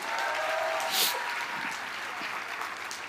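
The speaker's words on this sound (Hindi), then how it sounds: "तो रामवीर सर के लिए भी एक बार तालियां होनी चाहिए।" Audience applause at a corporate gathering, a steady wash of clapping from many hands that holds fairly even for about three seconds, with a brief swell near the start.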